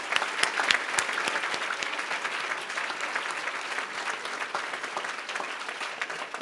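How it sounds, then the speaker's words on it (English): A large gathering at the Into the Light Walk applauds its young people, a sustained roar of clapping hands with sharp individual claps standing out near the start and continuing steadily throughout. "Let's give a round of applause to all of our young people."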